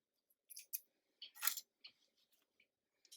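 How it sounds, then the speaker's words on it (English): Scissors snipping sewing threads after back-tacking the seam ends on a corset apron, a few crisp close metallic snips and clicks in near silence, no talk. "cut your threads off"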